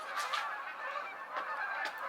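A few geese honking at a distance, scattered calls rising over a quiet outdoor background.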